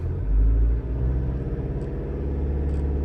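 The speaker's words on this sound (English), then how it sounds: "Let's rev it to 2000 RPM" A Mazda CX-5 engine, revved and held near 2000 RPM, gives off a steady low rumble with a slight rise early on, close and continuous for about three seconds.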